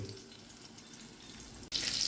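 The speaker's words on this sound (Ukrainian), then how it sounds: "Обсмажуємо на великій кількості олії на помірному вогні." Eggplant slices dipped in batter fry in a generous amount of oil over moderate heat, giving a steady hiss and crackle throughout that grows brighter and louder near the end, with no voices.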